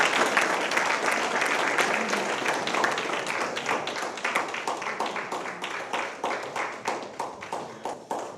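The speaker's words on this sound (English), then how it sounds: "Please give another round of applause to him" An audience at a live election-special podcast event bursts into applause, dense clapping that breaks into individual distinct claps as it dies down.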